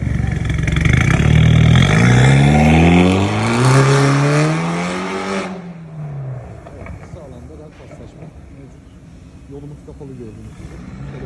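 A BMW F30 320i with a remote-controlled exhaust revs up loudly with rising and falling pitch through a deep exhaust, then drops to a low idle while a voice speaks quietly.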